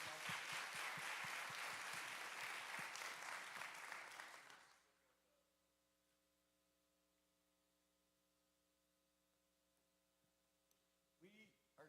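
A summit audience gives the event organizers a round of loud applause, dense clapping for about four seconds before it fades, leaving a low electrical hum in a quiet hall.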